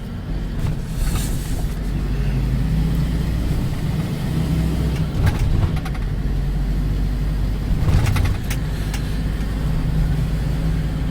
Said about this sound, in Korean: 진동도 크고 마치 버스 타는 느낌이에요 버스 굉장히 삐그덕삐그덕 소리가 많이 납니다